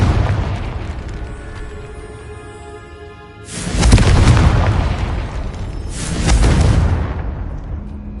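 Two heavy booming blasts from the Confringo curse in Hogwarts Legacy, each a loud broadband burst about three seconds apart that rolls and decays slowly over a low background hum.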